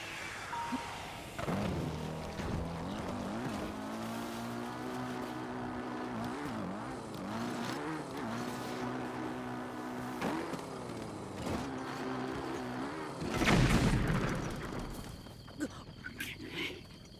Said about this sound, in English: why does it have the sound of a combustion engine?